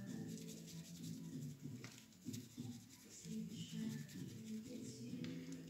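An oil paint brush scrubbed on a bar of soap during cleaning, a steady close rubbing and bristly scratching that goes on throughout, with faint speech now and then.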